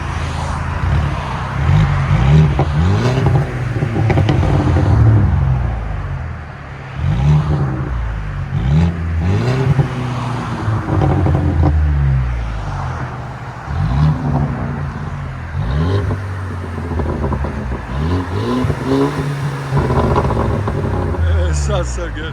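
A stage 1 tuned Mercedes CLA 250 2.0L four-cylinder turbo engine with muffler delete revs repeatedly in rising and falling surges, loud and close, with a throaty turbo growl between bursts.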